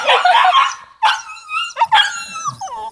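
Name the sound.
Alabai (Central Asian Shepherd) puppy barking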